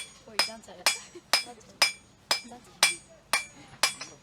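Blacksmith's hammer taps metal corners at a forge at a medieval fair, eight sharp ringing strikes in an even rhythm, close and clear.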